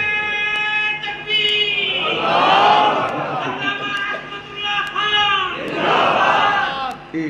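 A crowd at a religious gathering chants slogans in loud, rising collective shouts, two big swells of many voices answering a leader, with echoing, reverberant delivery.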